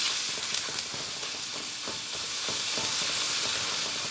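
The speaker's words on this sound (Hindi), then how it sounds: "तेल गर्म हो गया है, हम डाल रहे हैं 1 चम्मच राई, 1 चम्मच हींग और कुछ कड़ी पत्ते" Mustard seeds, asafoetida, curry leaves and leftover masala frying in hot oil for Maharashtrian stuffed brinjal, a steady close sizzle with scattered tiny pops and crackles throughout.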